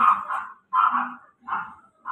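A dog near a home in Tondo, Manila barks in four short, loud, close bursts, each separated by a brief pause, with no talking over it.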